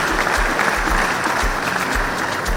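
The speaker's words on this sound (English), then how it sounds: "Please, a round of applause for all of our sponsors." Loud, close audience applause for sponsors at an innovation challenge event: dense clapping that holds steady throughout, with rhythmic low thumps pulsing underneath.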